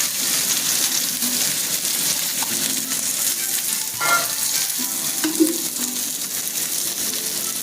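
Onion frying in oil for a Maharashtrian maswadi rassa, a loud continuous close sizzle with occasional stirring clinks and scrapes against the pot.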